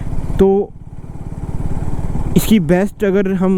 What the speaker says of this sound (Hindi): 4th गियर में अब 34 32 ब्रेक प्रेस किए मैंने, अब छोड़ दिए हैं ब्रेक्स। अब 21 19 17 16 17 अब बाइक नॉक करने लगी है